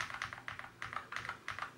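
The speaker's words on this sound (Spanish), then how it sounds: "No tiene ese sonido tan potente como un teclado mecánico, ese sonido tan seco de la pulsación del switch." Keys on a Xiaomi gaming keyboard are typed in quick bursts of soft, muted clicks, close and fairly quiet, without the sharp snap of a mechanical switch, in an otherwise silent room.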